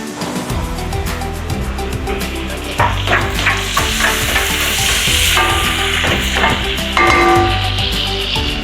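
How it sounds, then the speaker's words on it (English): Garlic sautéing in melted butter as the base for Filipino beef caldereta, giving a loud, continuous sizzle and hiss with occasional stirring sounds close by and no talking. "Once our butter's melted, we're gonna be adding in our garlic and start sauteing that."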